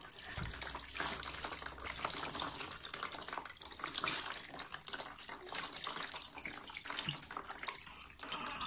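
Water splashes and runs steadily while a newborn baby is washed in a bath, a continuous close wash of trickling and sloshing from start to finish.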